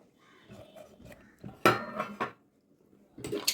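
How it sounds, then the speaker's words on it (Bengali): A pressure cooker lid being closed over baby bananas and chickpeas: a few sharp metallic clanks and knocks, close and fairly quiet, separated by short silences. "এবার আমি ঢাকনাটা বন্ধ করে দিচ্ছি।"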